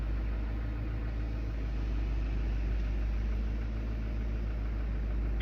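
A Mazda CX-5 Skyactiv engine idling steadily with a low hum and a faint, quick tapping running underneath, heard close and without any talk.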